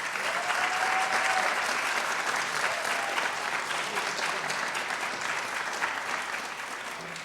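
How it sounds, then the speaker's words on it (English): An audience claps steadily and fairly loudly for several seconds at an indoor program, a dense sustained applause that fades slightly toward the end, with a faint voice briefly audible early on. "Can we give them a round of applause"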